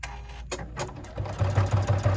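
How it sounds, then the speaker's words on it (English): A Juki NX7 sewing machine with a walking foot stitches in a quick, even mechanical patter, the needle's rhythmic thumping building after a brief start-up and running close and clear. "put my presser foot down, and I can just begin to sew"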